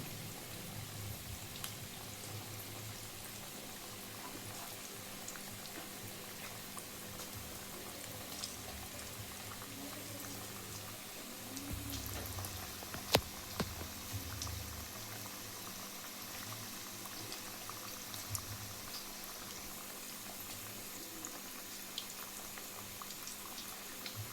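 Masala vada (lentil fritters) frying in hot oil: a faint, steady bubbling crackle with scattered sharper pops, continuing quietly on its own without talk.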